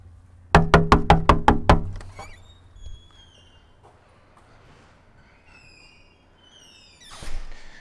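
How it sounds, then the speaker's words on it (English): Six quick, evenly spaced knocks rap on a door from outside, sharp and fairly loud, followed by faint shuffling and small sounds during a dog training session. "I'm going to walk outside and we'll knock and see how he does with that."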